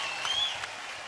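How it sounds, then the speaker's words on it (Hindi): Studio audience on the Sa Re Ga Ma Pa singing show clapping, a short, fairly soft burst of applause. "जोरदार तालियां हमारे गर्ल पावर के लिए"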